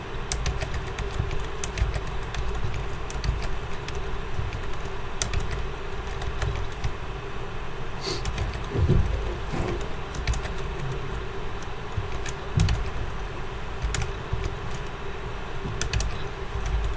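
A calculator keypad is tapped to enter raw data, with quick, light clicks scattered in irregular runs over a faint constant background hum.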